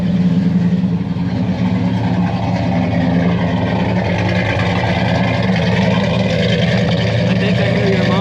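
After a cold start, the 400 engine of a 1980 Ford F150 runs at a loud, close, steady idle with a rough low rumble and even firing pulses throughout, and nobody speaks over it.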